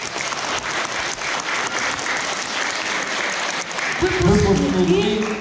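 Audience applause at a school graduation ceremony in Yekaterinburg, sustained dense clapping throughout, with a music swell entering near the end.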